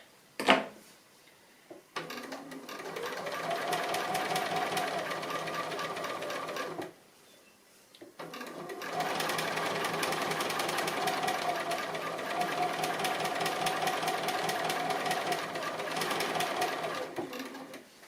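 A sewing machine free-motion stitches an appliqué in two long steady runs of fast rhythmic whirring, close and even, split by a brief stop near the start and another pause midway, with no voices.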